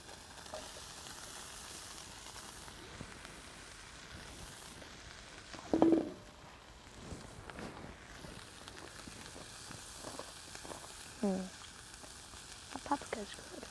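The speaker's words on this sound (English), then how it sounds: "now I'm going to put on paprika, onion and garlic" Paprika, onion and garlic sizzle steadily in a pan over a Bushbox LF camp stove, a low continuous frying hiss with a few brief louder crackles and stirring scrapes, heard close with no talking.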